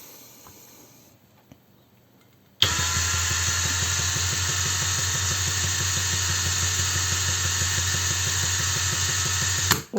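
A Heimerdinger LB180 gyroscopic cordless screwdriver starts after a quiet pause and runs steadily at the lowest setting of second speed, a loud continuous motor whine with a fine regular ripple that stops abruptly at the end.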